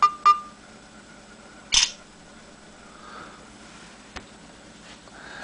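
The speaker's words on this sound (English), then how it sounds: "just if you press the shutter button" A short mechanical shutter click from a Samsung Gem phone camera stands out in a quiet room, with a couple of softer clicks and taps around it.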